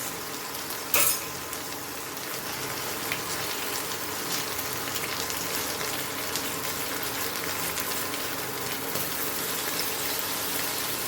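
Mussels cafreal, a spicy Goan dish, frying in a pan with a steady broadband sizzle that holds from start to finish, with a brief louder crackle burst near the beginning and no talking.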